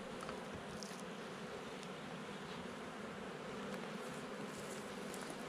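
Dense, steady buzzing of many honeybees swarming around an open hive frame at a beekeeping site, close and continuous with no talk over it.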